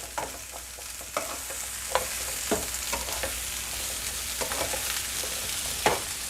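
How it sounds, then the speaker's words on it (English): Vegetables stir-fry on high heat in a little oil, sizzling steadily in a hot pan, with occasional scraping and clatter as they are stirred, close and continuous. "stir fry your vegetables on high heat with just a little bit of oil"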